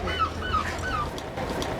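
A black dog whimpers in a few thin, high, drawn-out whines, fairly close, over steady outdoor background noise on a sweltering day.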